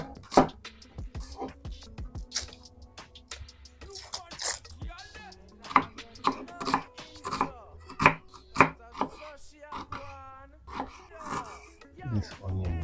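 Potatoes being thinly sliced with a knife on a cutting board, producing a fast run of crisp, close chopping taps in a steady rhythm.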